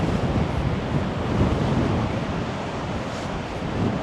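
High wind and rough sea waves along Blackpool Promenade, a loud, continuous roar of surf and gusting wind buffeting the microphone, with no voices.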